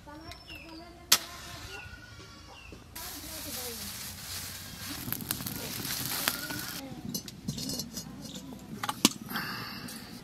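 A fire being lit in a traditional clay stove, with crackling and hissing noise from the flames and fuel, along with scattered pops and rustles, fairly close and steady.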